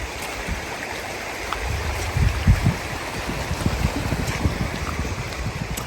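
Running water of a stream at Tyndrum in the Scottish Highlands, a continuous rushing flow with gusts of wind buffeting the microphone and a few low thumps, fairly close.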